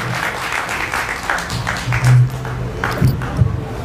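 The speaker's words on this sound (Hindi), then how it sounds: "आपकी तालियां कमजोर रह गई" Audience applause at a Hindi poetry recital with a young poet, a short burst of scattered clapping that stays fairly thin and light, mixed with faint crowd noise and some low thumps.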